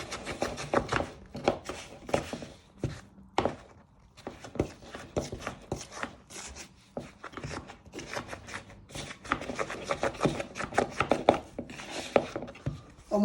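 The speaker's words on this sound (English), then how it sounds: "Just chop it for a minute with your wooden spoon, and then you want to give it a good beat." A wooden spoon chops at Easter cake mixture in a bowl, making quick irregular knocking thumps in bursts with short pauses, close and fairly soft.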